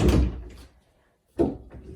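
A renovated laundry closet door fitted with new black pulls is opened or closed, giving two distinct close wooden thuds with a short quiet gap between them.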